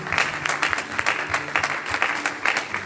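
A church congregation claps together to praise the Lord, a steady rhythmic applause of many hands filling the room, fairly loud and continuous with no voices on top.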